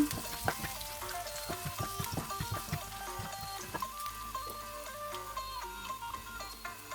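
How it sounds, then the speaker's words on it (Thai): Steady sizzling and crackling of garlic frying in hot oil in a pan, with occasional stirring clatter, close and continuous with no talking. "ใส่กระเทียมลงไปผัดให้หอม"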